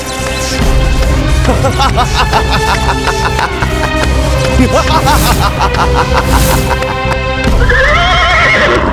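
A horse neighs loudly while hooves clip-clop, set in a dramatic mythological television scene with a dense, continuous music score running underneath throughout.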